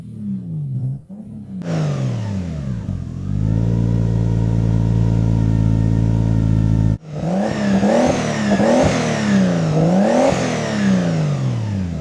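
A turbocharged car engine fitted with an exhaust baffle revs up and holds a steady, droning tone. After a brief dip, it runs through several rising and falling revs, loud and close.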